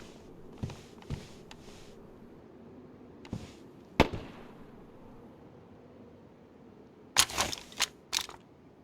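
Scattered gunshots in the DayZ video game, a few single faint cracks early on, then a louder cluster of four or five quick shots near the end, mid-distance against a quiet background.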